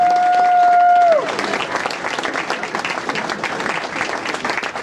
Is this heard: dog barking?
no